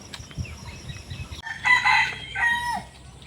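A hill-country desi rooster crows loudly and close by, one drawn-out call rising after a softer stretch of clucking and rustling, with no talk over it.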